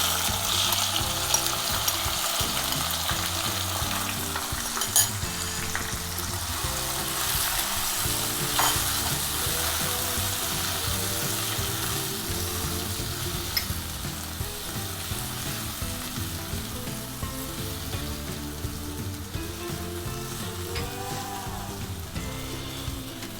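Tomatoes fry in a kadai with red chilies, coriander and cumin seeds, a steady loud sizzle running throughout with repeated scraping and clinking of a spoon stirring the pan.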